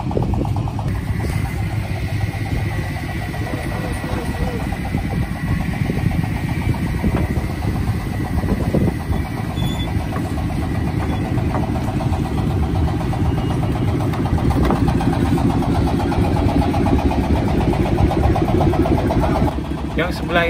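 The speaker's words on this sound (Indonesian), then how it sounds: "Akhirnya kapal ini berangkat menuju ke pelabuhan Sirbaya" A wooden ferry boat crossing to Sirbaya in Kutai Kartanegara, East Kalimantan, carrying cars and motorcycles, runs its engine as it departs, a loud, constant low rumble throughout with people talking over it.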